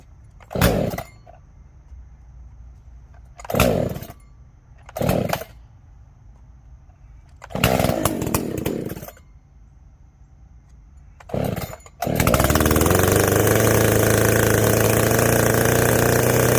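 An Echo CS-590 chainsaw with a modified carburetor takes five separate pull-start attempts, each a short sputtering burst, before catching and running steadily and loudly at a high, even pitch.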